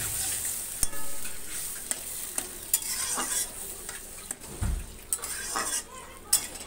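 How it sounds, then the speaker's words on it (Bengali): A spoon stirs a drumstick, bitter gourd and potato chachchari with a little water in a pan, making scraping sweeps and sharp metallic clinks against the pot at irregular intervals, ending in a heavier clunk of a lid. "পরিমাণ মতো একটু জল দিয়ে এখন এটা সুন্দর করে নাড়াচাড়া করে ঢেকে দেবো।"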